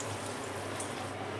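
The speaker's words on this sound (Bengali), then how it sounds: "এবার তেলের মধ্যে আমি লুচিটা ছেড়ে দেবো।" Mango luchi, a puffy fried flatbread, frying in hot oil, giving a steady, moderately quiet bubbling hiss with faint crackles throughout and no talking.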